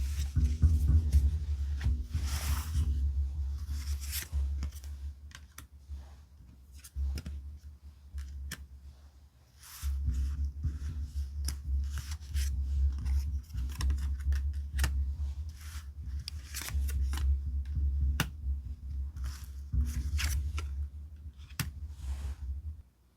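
Tarot cards being shuffled and picked, soft papery flicks and light clicks over a low steady hum, quiet and close.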